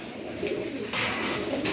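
Pigeons coo in a loft with a brooding hen sitting on eggs, soft repeated cooing calls close by over a low room hum.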